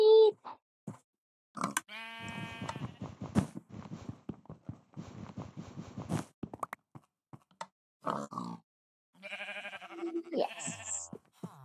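Short sheep bleats from Minecraft sound in bursts amid intermittent talking, the calls clean and repetitive like game sound effects.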